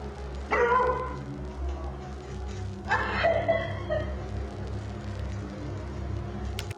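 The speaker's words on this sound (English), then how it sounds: "the TikToker's dog reacts again, barking fiercely while gazing out of various windows" A dog barks fiercely while looking out windows, two loud bursts of sharp barks separated by a quieter stretch over a low indoor hum.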